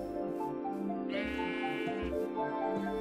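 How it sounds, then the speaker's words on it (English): Sheep bleat in the Minecraft video game: several short, wavering synthetic cries follow one another, with one longer, brighter bleat in the middle, heard clearly without talk. "I've attracted more sheep."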